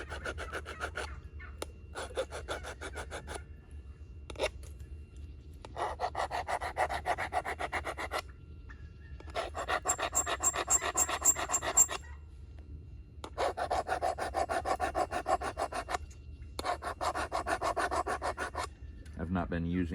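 A flint knapping pressure flaker is sharpened with repeated rasping strokes, steady back-and-forth filing in bursts of a second or two separated by brief pauses, close and moderately loud with no talking.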